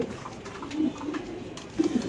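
Spanish pigeons cooing at a pigeon farm, soft low throaty coos repeating in short bursts close by over a quiet background, with a stronger coo near the end.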